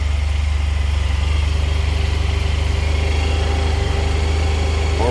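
A 600cc Honda Silverwing motorcycle engine runs at a steady, even idle close by, a constant low throbbing hum with a faint higher whine on top, uninterrupted and without voices.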